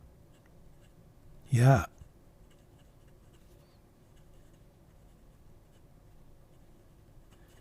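A Majohn C5 fountain pen, written in reverse, makes one short, close scratch across paper, standing out once against quiet room hum, and a voice speaks briefly.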